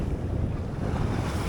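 Broadband wind and surf wash over a sailboat under full sail, making a steady loud roar with a low rumble of sea waves throughout, no voices.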